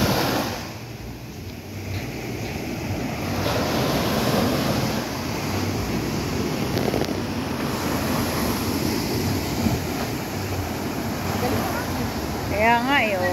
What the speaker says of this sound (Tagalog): Ang lalaki talaga ng alon pang surf.